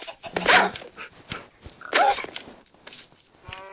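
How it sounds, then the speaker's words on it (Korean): A dog barks a few times in short, sharp bursts at close range, with quiet pauses between the barks. "강아지다."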